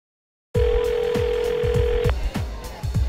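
A telephone sounds with a steady electronic tone lasting about a second and a half, loud and close over a pounding music beat that continues throughout.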